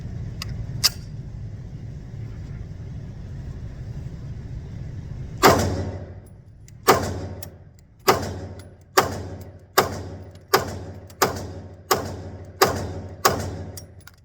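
A Heckler & Koch P30L pistol fired at a target outdoors, roughly ten sharp, loud shots at a steady pace, each followed by a short echoing decay after a quiet stretch with two faint clicks.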